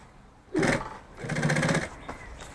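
A sewing machine stitches a bag in two short bursts of rapid mechanical clatter, separated by a brief pause. The quiet needle hum sounds close by, with no voices.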